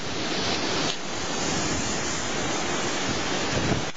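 Super Typhoon Yolanda winds roar in Aklan. A dense, continuous rush of storm noise batters the microphone for the whole stretch, with no voices.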